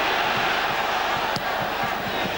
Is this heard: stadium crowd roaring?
yes